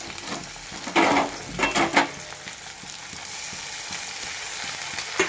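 Onions fried until reddish, now joined by ginger-garlic paste, green chillies and tomato, sizzle steadily in a pan, with several louder bursts of stirring scrapes early on before settling into an even, close frying hiss.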